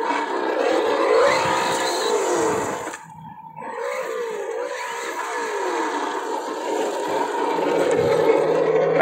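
CEN Colossus XT RC monster truck running on a 4S battery outdoors, its electric motor whining and rising and falling as it accelerates, with scraping tire noise and a brief near-silent pause before it resumes.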